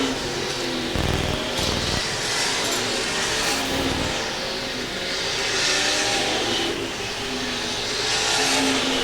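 IMCA Grand National race cars roar continuously around the I-35 Speedway oval, including the 99 car. The loud engines rise and fall as cars pass, with an announcer's voice running faintly under the racing noise.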